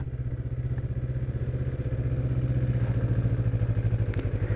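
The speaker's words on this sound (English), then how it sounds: "These little Ninjas, they rev, but there's no real sharp difference in the power curve." A 2007 Kawasaki Ninja 250 motorcycle engine runs close by with a steady low, buzzing rumble. The revs climb gradually and the sound grows slightly louder toward the end, with no voices.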